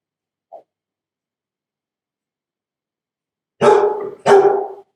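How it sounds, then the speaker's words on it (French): A dog close by gives two loud barks about half a second apart, set against quiet surroundings with a tiny faint click earlier on. "Ah, un chien, pas loin."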